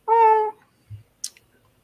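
Magic Cat from a video game gives a single clear, close meow, followed by a soft thump and a brief click.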